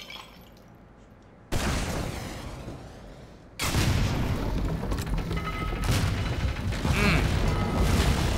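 Gunfire and booming impacts from the Aperture Desk Job game, loud abrupt blasts with shattering crashes in two stepped surges that stay dense and intense throughout.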